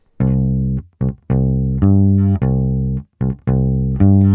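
Electric bass plays a steady country-style phrase of short and sustained low notes with brief gaps, close and clear with no talking.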